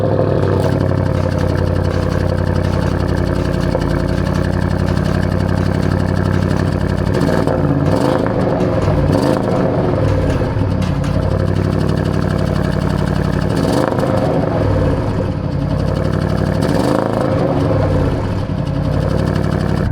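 A 2021 Audi RS6 Avant, a big, heavy all-wheel-drive wagon, runs continuously from inside the cabin, a deep steady engine drone rising and falling gently with light throttle as the drive gets under way.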